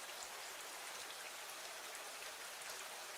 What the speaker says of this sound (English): Because I can have rain sound effects.